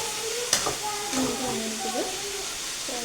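Food sizzles and hisses in a hot pan while it is stirred, with a sharp scrape or clack early on. A person talks over the steady frying.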